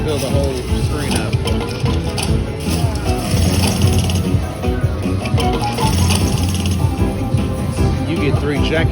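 Jackhammer bonus feature sounds from the Huff and Puff slot machine, a busy mechanical rattling and jingling layered with game music, continuous and loud throughout.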